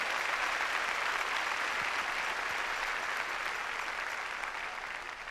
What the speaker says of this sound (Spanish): Denle palmas con todo su corazón